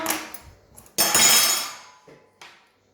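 A knife cuts a portion of hachis parmentier, a French baked dish of minced meat under mashed potato, with a short clink of the blade against the dish followed by a louder scraping, crunching cut lasting about a second, then faint contact sounds.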